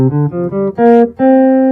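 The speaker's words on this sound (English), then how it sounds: "Whereas the suspended pentatonic would be," Five notes rise in a short suspended pentatonic scale on a clean, sustained instrument, played close and loud, the top note held longest.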